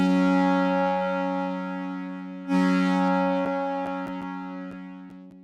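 A Korg Prologue synthesizer rings out a sustained pitched tone drenched in reverb. The tone swells again midway and then gives way to a few sharp, evenly spaced clicks.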